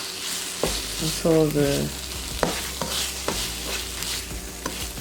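Shrimp and coleslaw egg roll filling sizzles steadily in a pan, with a spoon scraping and stirring in several distinct strokes, close and fairly loud, while a voice speaks briefly over it.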